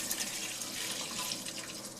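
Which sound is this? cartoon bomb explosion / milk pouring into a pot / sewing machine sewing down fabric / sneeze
milk pouring into a pot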